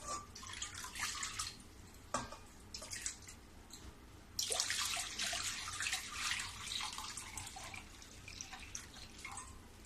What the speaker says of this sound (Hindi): अब इसमें इतना पानी डालूंगी कि जो ये तरबूज के छिलके है वो डूब जाना चाहिए।